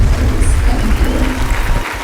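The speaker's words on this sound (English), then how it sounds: "Please for a big, big round of applause for a beautiful Erica" Guests at a birthday party break into a big round of applause for a woman, dense, close clapping with a faint crowd murmur that fades slightly near the end.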